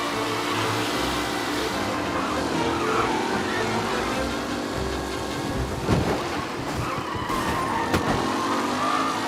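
Racing cars in the game Mafia roar in a tight pack with tyres skidding, a continuous loud engine wash broken by a couple of sharp screeching skids and knocks near the end.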